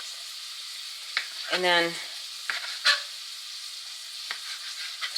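Beef barley soup with leftover gravy cooks in a pot, giving a steady soft sizzling bubble throughout, with a brief spoken phrase and a few small clinks near the start.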